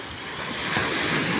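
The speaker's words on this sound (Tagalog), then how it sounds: "sumasalpak yung alon sa barangay hall" Sea waves crashing against a barangay hall on Isla Lipata during monsoon weather, a loud continuous rushing surf with wind noise and no voices.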